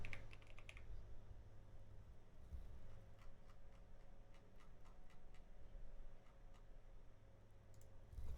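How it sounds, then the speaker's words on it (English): Quiet computer keyboard typing during an Unreal Engine 5 tutorial, a short burst of clicky keystrokes at the start and then scattered taps, all close and soft over a steady low hum, with no talking. "Let's just type in length."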